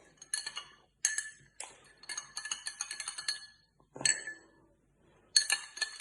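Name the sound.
stirring food colouring into a glass of water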